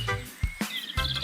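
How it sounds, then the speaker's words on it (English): A sparrow gives a handful of short, bright chirps in quick succession, close and fairly loud, with brief gaps between them and no talking. "Sparrow. Tweet, tweet."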